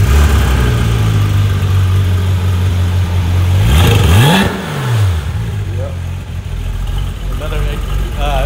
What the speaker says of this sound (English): All right, Pat's gonna fire it up.